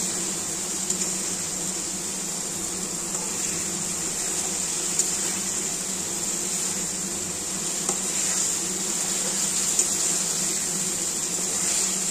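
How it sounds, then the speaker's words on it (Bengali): Eggs sautéing in a pan, a faint continuous sizzle under a steady background hum, with occasional light clinks of a utensil against the pan and no talking. "এক এক করে সব ডিমগুলো দিয়ে দিলাম, দিয়ে ভালো করে একটু কষিয়ে নিচ্ছি"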